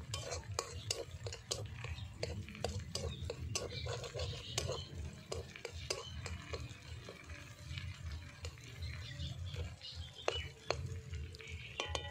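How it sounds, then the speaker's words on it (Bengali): A single egg, salted and cracked into a little mustard oil beside potatoes and carrots, is stirred and broken up in a pan, with a steady run of sharp spatula scrapes and clinks over a low frying hiss. "ডিমটা নাড়াচাড়া করে কুচিয়ে নিয়েছি।"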